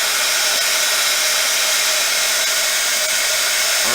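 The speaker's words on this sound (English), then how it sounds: "Sorry, I'm at the reach of my heat gun." A heat gun blows a steady, loud, unbroken roar while polymer clay is being cured, running close and alone without any talk.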